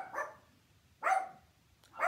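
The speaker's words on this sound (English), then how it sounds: "Oh no, no barking, you guys." A dog barks three times with pauses between, sharp mid-pitched barks at moderate distance in an otherwise quiet room.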